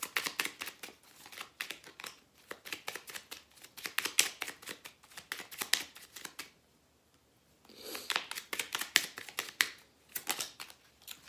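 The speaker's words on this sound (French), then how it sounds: "Je vais vous tirer petite carte conseil pour les vierges." Tarot cards being shuffled and drawn from a deck for a Virgo reading, a rapid run of crisp papery flutters and riffles in bursts, pausing briefly before resuming, close and fairly quiet with no talk.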